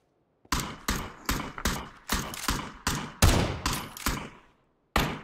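Rapid sharp gunshots in the PLAYERUNKNOWN'S BATTLEGROUNDS video game, about a dozen loud cracks fired at a steady quick pace, a brief pause, then one more shot.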